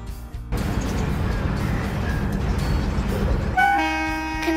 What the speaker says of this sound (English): Container train.